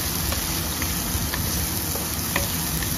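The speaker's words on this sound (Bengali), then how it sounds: "মশলাটাকে একটু ভালো করে কষাতে হবে।" Spice masala with ginger paste fries in a pan with a steady, loud, close sizzle and faint intermittent scrapes of stirring.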